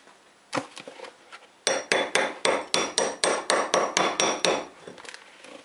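A hammer chips slag off an arc weld bead with two separate taps, then a steady run of about ten sharp metallic strikes, close and loud with no talk.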